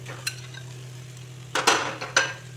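Teasel gourd filling with mustard paste and seeds being stirred in a frying pan: a faint steady sizzle under a few sharp scraping clinks of a spoon against the pan, close by.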